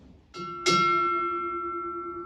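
At a US Navy retirement ceremony, a ship's bell rings out with two strokes, the second louder, leaving a bright, lingering tone that fades slowly against a hushed background.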